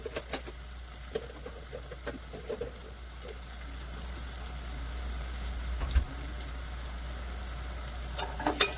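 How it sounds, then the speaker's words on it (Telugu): Ginger garlic paste frying in a pan for a taro root (chamadumpalu) and egg pulusu, a steady low sizzle with light stirring clicks and scrapes throughout, moderately close with no talking. "అల్లం వెల్లుల్లి పేస్ట్ ఒకటే వేస్తానండి కొద్దిగా"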